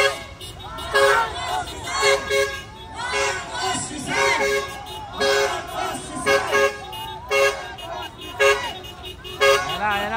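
Repeated car horns honk in bursts amid a noisy street crowd at a political rally, with voices chattering underneath and the honks recurring every second or two.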